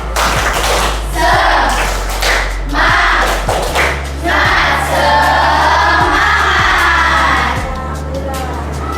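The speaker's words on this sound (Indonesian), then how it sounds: "mari kita tepuk semangat." A classroom group claps in a rhythmic spirit-clap pattern, loud, close thuds and claps falling in repeated beats, with voices chanting along.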